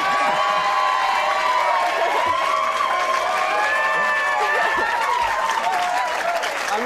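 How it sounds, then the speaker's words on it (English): Applause and cheering from a university campus audience, dense sustained clapping with shouts and whoops rising throughout, loud and close. "that must be the biggest round of applause ever given to somebody to describe themselves in such disparaging tones"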